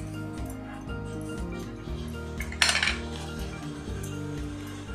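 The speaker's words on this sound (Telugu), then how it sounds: "ఉల్లిపాయ ముక్కలు, కరివేపాకు, కొత్తిమీర అన్నీ వేసుకొని కలుపుకోవాలి." Vermicelli pakora batter is stirred by hand with chopped onions, curry leaves and coriander in a bowl, heard as soft, close mixing sounds with one sharp clink of a utensil partway through.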